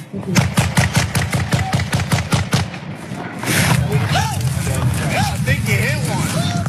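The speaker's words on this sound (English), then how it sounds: "This video is of the foundation's armed American security guards opening fire." Armed American security guards opening fire in Gaza, a rapid burst of sharp gunshots at first, then a rougher noisy stretch with scattered further shots and whistling tones.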